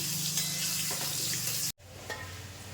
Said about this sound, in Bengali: আলুটা এদিকে ভাজা ভাজা হয়ে গেছে, এবার তুলে নেব